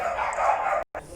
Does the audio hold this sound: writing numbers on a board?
no